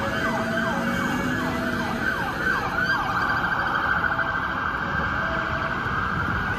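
A toy fire truck's electronic siren wails in rapid repeated up-and-down sweeps, close and continuous, with a shrill, tinny tone.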